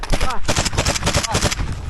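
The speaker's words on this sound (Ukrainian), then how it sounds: "Він стрельнув мене." Gunfire in close-range fighting on the outskirts of Bakhmut, a rapid burst of loud cracking shots in quick succession with a voice shouting among them.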